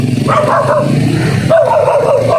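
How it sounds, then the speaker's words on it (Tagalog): A dog barks and whines nearby, loud and close, in a couple of drawn-out, strained vocal bursts. "Kalaban kong aso yan."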